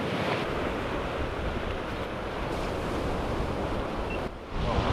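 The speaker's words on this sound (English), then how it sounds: "There's still a decent amount of swell though," Sea swell rolling into a sheltered rocky bay on the UK coast, a steady loud wash of surf with wind buffeting the microphone, no voices present.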